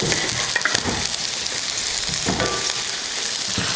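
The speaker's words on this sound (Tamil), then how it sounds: "எண்ணெய் காஞ்சிருச்சு. அதில் வெங்காயம் சேர்த்துக்கலாம். ஒரு பெரிய வெங்காயத்தை நீல வாக்கில் கட் பண்ணியிருக்கேன். வதக்கிக்கலாம்." Sliced large onion sautéing in hot oil for an Indian lunch, a dense, loud, continuous sizzle and crackle with faint stirring, no voices.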